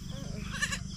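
A goat gives a short, nasal bleat at close range, rising briefly over a steady low background hum.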